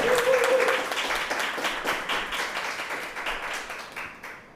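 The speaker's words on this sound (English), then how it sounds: "give a round of applause for the second place team" Applause from an audience at a competition awards announcement for the second-place team fills the room, dense clapping that starts strong and gradually thins and fades toward the end.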